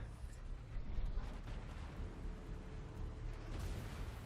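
Battleship guns booming in a naval video game, the USS North Carolina in a broadside engagement; a steady low rumble of heavy fire with a stronger blast around the first second, continuous and fairly distant-sounding.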